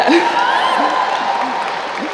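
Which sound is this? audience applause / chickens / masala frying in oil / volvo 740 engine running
audience applause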